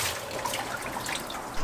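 Water drips and trickles steadily from a hand-washed sweater lifted out of a sink, a continuous close patter with no talking.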